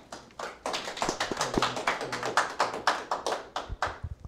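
A studio audience claps at the end of a small live concert at a senior services center, with dense, fairly close applause sustained for several seconds and individual claps standing out as it tapers.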